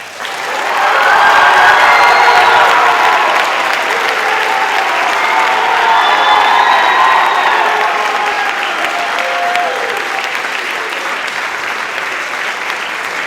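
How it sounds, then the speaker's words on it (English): A large audience at a high school kiltie band spring concert breaks into loud, sustained applause that swells quickly, holds steady, and slowly thins over several seconds, with some cheering mixed in. "With warm and generous applause, please welcome up to the stage your Kiltie President, Carri Radford."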